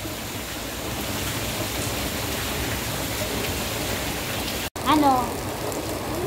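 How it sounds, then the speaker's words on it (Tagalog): Heavy rain pouring outdoors in Hong Kong, a dense, steady hiss that fills the whole stretch, with a short voice breaking in near the end. "Grabe ang uwan oh."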